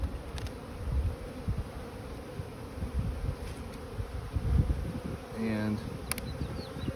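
Honey bees buzzing around an opened, defensive hive, a steady low hum of many insects close by, with individual bees swooping past the microphone; a voice is faintly present.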